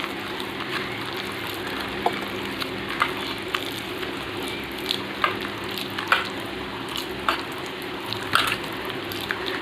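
Wood apple pulp squeezed by hand with water, giving wet squelches and soft splashes at an irregular pace, close up over a steady background hiss.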